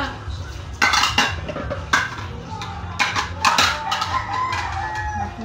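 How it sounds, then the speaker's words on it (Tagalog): Dishes, pots and pans clatter during washing at a home fiesta in Caraye, Leyte, with sharp clanks of metal and crockery in bursts. A rooster crows and chickens cluck in the background. "Hugas po tayo para pagdating ni ate, walang hugasan."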